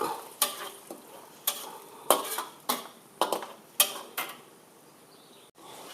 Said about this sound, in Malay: kita kacau bahan tumis carrot ni sehingga dia betul-betul masak lah